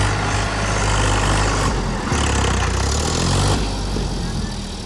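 A tractor engine, with the tractor stuck on a road by a bridge, runs steadily and loudly with a deep, continuous rumble that rises slightly in the middle.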